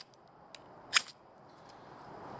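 A Boker Plus stainless steel knife spine scraped once against a fire steel gives a single sharp, bright rasping strike near the mic, with faint clicks just before and a low background hiss.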